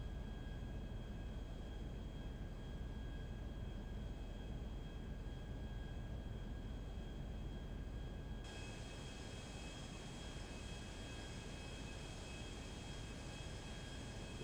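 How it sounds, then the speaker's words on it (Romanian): A steady, broadband airplane engine drone from a roleplay video game, a constant low rumble with a faint high whine, holding level throughout and shifting slightly in tone partway through, with no talking. "Vezi că suntem cu avionul, nu cu barca."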